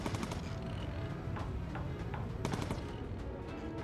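Bomber gunners fire machine guns at low altitude in Bomber Crew, dense continuous rattling bursts with sharp peaks in a steady, loud barrage, no voices over it.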